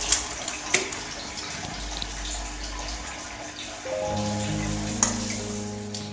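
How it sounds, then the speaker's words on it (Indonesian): Water drained off wilted cincau leaves in a kitchen, a running pour and splash with a couple of sharp clinks, the flow growing fuller and steadier midway through, no speech. "Buang air sampai habis."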